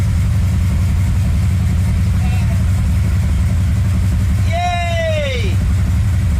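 A Jeep CJ7, newly fitted with a full Painless wiring harness and HEI ignition, idles with a steady low rumble throughout while a voice talks over it and a whistle-like rising and falling tone cuts in near the end.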